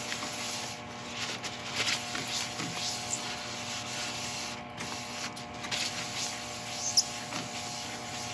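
A steady, soft rubbing hiss comes from Hampshire Sheen being polished onto a spinning epoxy resin and wood bowl on a woodturning lathe, with a low motor hum underneath and a few faint ticks.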